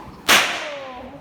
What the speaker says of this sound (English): Now another way that we can crack the stock whip while we're on the horse is by going straight up and down alongside the horse.